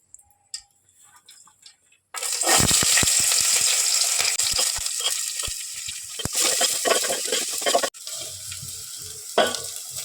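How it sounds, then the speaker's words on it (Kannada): After a few quiet clicks, a loud sizzle of onions and green chillies frying in oil in a pan erupts and continues steadily, with scattered sharp crackles and pops. "ಬೆಂದೈತೆ ಈರುಳ್ಳಿ"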